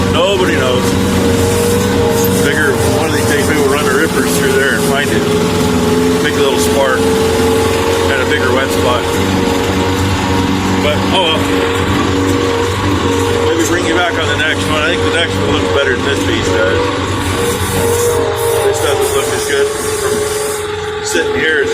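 Steady farm vehicle engine drone while driving through a grassy pasture, a continuous low rumble with a humming tone held for the whole stretch, with speech blended in over it.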